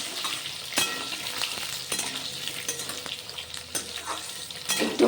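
Eggplant and potato pieces fry in a pan with a continuous close sizzle, punctuated by spatula scrapes and light metallic clinks as they are stirred.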